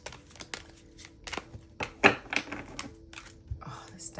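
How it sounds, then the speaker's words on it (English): Tarot cards being shuffled by hand, soft irregular riffles and taps at close range, fairly quiet. "Oh, this deck is so hard for me to shuffle."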